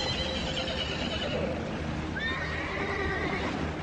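Horses whinny and neigh with high, wavering cries while swimming and struggling in lake water behind a boat, sounding from mid-distance over a constant wash of water noise.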